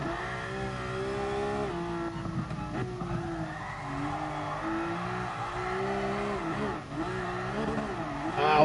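A car drifting in GT Sport on the Nordschleife, its engine droning and rising in pitch through the revs with a missed upshift, tire squeal woven through, steady and moderately loud without speech.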